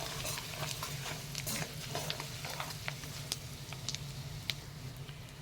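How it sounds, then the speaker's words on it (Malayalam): A pan of nutmeg pickle mixture, just dosed with asafoetida, stirred over a low sizzle, with soft scraping and irregular clicks and taps of a spoon against the pan, close up. "അതിലേക്ക് കുറച്ച് നമുക്ക് ആവശ്യത്തിനുള്ള കായപ്പൊടി ചേർത്തതിന് ശേഷം നന്നായിട്ട് ഒന്ന് ഇളക്കി കൊടുക്കണം"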